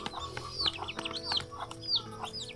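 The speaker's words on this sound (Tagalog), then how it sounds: "Mga sisiw din, oh." Farm chickens and chicks together: soft clucks blend with repeated high, rising peeps from the chicks, close by and lively over a faint background hum.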